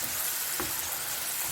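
A tadka of Kashmiri chili, garlic paste and turmeric sizzles steadily in hot oil, a close, continuous frying hiss with no voices.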